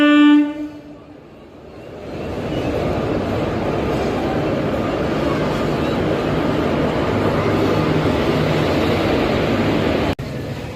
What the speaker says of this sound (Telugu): తిరుపతి కాకినాడ ట్రైన్ కూడా వెళ్ళిపోతుంది